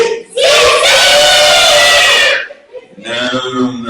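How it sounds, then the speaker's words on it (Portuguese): A group of children at a church children's service shout together loudly on a count of three, one long sustained yell followed by a brief dip and a second burst of shouting. "Sabe por que eles gritaram?"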